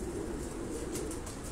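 Kept racing pigeons cooing softly and steadily, with a few light wing flaps, close by and fairly faint.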